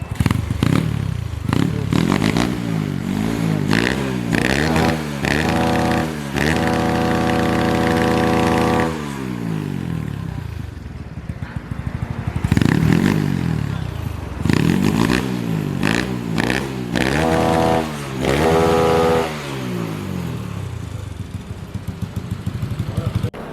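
A rebuilt motorcycle engine with a 56 mm stock-stroke setup and a fairly quiet exhaust runs close by, revving up and down in repeated bursts with a steady idle between, while people talk over it.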